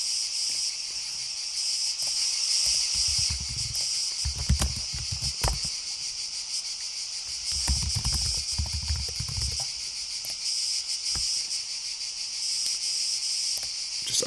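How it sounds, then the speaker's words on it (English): Cicadas sing steadily in a loud, close chorus, their high buzzing broken into long and short pulses, with low rumbling bursts in the background. "So this one is cicadas who are singing clearly in a Morse code pattern with long and short signals."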